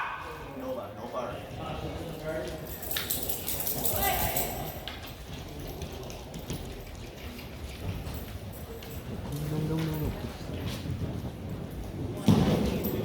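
Polo pony galloping on the field during a chukker at a clinic, hoofbeats thudding in a steady run under continuous commentary and crowd noise.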